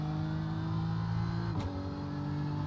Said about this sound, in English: We are using the BMW M4 GT3, Squeaky.